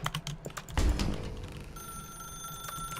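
In The Stanley Parable Ultra Deluxe game, a telephone rings with a bright, sustained electronic tone that sets in after a loud thud and holds steadily to the end, with no talk over it.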